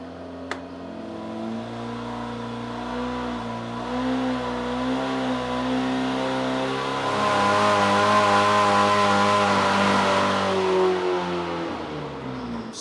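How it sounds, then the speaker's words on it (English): A 1978 Toyota Celica race car engine idles with a steady rumble, then revs higher and holds before settling back down, close and loud. "he's going to give the engine a run"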